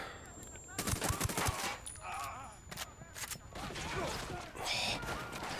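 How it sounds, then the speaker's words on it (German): Gunfire in the video game Ghost Recon Wildlands, rapid sharp shots and bursts over continuous game ambience, with someone talking over much of it. "weil ein Schuss gefallen ist"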